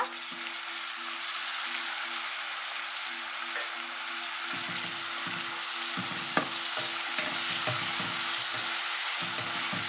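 Thinly sliced tomatoes and onion with curry leaves frying in a pan for a ridge gourd and chana dal curry, giving a constant close sizzle with intermittent stirring scrapes and a low hum underneath.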